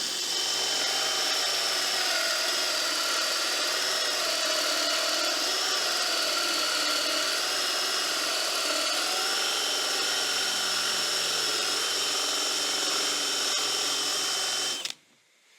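Steady, loud whine of a drill at about 1300 rpm boring softwood with a 68 mm Forstner bit, running evenly for around fifteen seconds and then cutting off abruptly.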